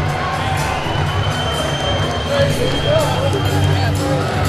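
Crowd at a Universal Combat League combat sports event cheering and shouting steadily throughout, a dense roar of many voices with swells of excitement, including higher children's shouts.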